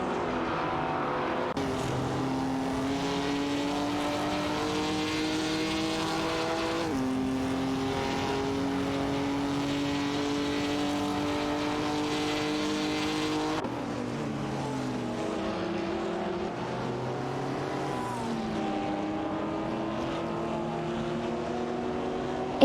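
Several race cars, including a Ferrari 250 Testarossa and a Maserati 450S, roar through a racing video game, their engines steady and loud with repeated gear-change pitch steps and overlapping revs throughout.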